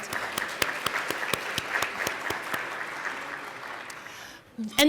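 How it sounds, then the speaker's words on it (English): A full room applauds volunteers at a school district's Volunteer of the Year luncheon. The dense clapping thins out over about four seconds, and a voice comes in at the very end. "So I want to give you another round of applause"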